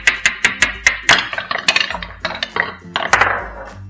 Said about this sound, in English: I'm going to hammer blue ball now.